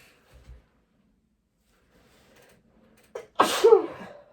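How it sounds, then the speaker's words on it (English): A single loud, sharp sneeze bursts out near the end after a quiet stretch with a few faint rustles, close to the microphone. "I'm going to sneeze now, sorry."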